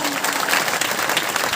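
Loud, dense applause fills a room as students clap for a second-place classmate, a continuous crowd of hands beating steadily from start to finish.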